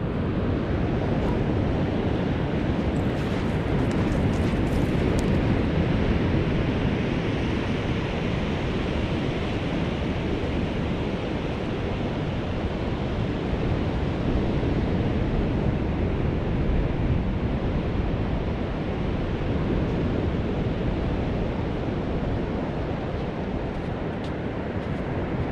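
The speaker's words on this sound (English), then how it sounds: "It's not even the size of the waves," Heavy sea surf and gusting wind at a fishing shore, a constant loud broadband roar of breaking waves with wind buffeting the microphone throughout, no voices.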